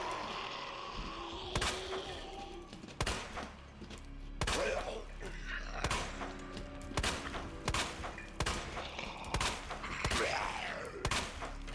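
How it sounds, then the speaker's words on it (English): Rapid gunfire from the video game Resident Evil 2 (BioRand randomizer), repeated sharp shots and bursts over continuous game ambience with thuds and impacts, loud and close throughout. "that's where I'm going to shoot this fox boy"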